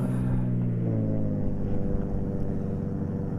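A boat engine turns over and picks up into a steady droning mechanical rumble, with a rising tone early on before it holds an even, loud running note nearby.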